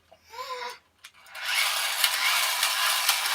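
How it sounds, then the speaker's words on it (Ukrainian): A petrol chainsaw being pull-started: a couple of short cord pulls, then the engine catches and runs with a steady, fairly close buzzing roar. "Первоначальний запуск бензопили."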